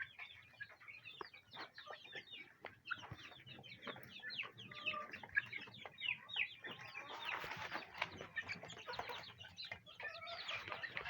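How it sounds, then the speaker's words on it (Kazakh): Dense, continuous high cheeping from a flock of one-month-old chicks, many overlapping peeps at close range with no talk. "Уже бір айлық балапандар ғой."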